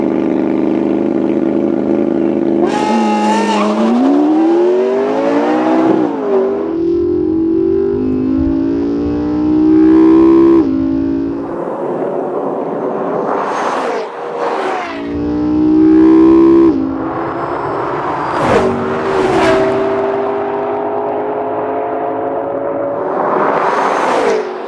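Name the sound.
two sports cars drag racing launch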